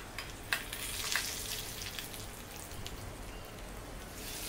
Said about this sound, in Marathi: आपण आता हा तडका चटणीवर टाकून घेऊया।